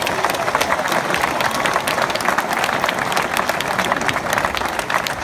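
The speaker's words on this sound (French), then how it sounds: "Applaudissez la sœur." Audience applause at a question-and-answer session in Guadeloupe, dense sustained clapping from a crowd filling the whole stretch evenly and fairly loud.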